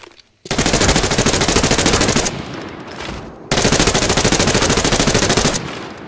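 Weapon fire in the video game Arena Breakout Infinite: two long, loud, close bursts of rapid automatic gunfire, each followed by a trailing echo, with no speech.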